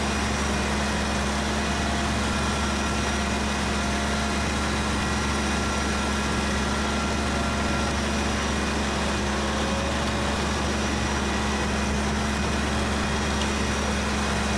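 A tractor in Farming Simulator 15 idles with a steady, unbroken low engine drone and a faint mechanical whine, constant and fairly loud throughout, with no talking.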